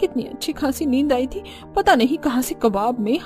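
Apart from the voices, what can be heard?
No everyday noises stand out.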